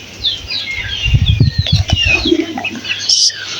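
Pigeons in their coop, with flapping wings, soft coos and chirps heard close by, mixed with brief bursts of human talk.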